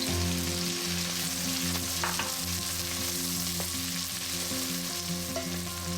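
Spices and onions frying in a pan for a Sri Lankan mutton curry, a loud continuous sizzle with steady stirring and a low hum beneath, no voices present.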